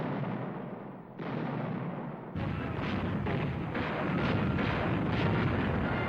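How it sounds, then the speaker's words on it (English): French artillery firing in a wartime scene, a dense continuous rumble of booming shots and bursts that jumps louder partway through and stays heavy and sustained. "French artillery."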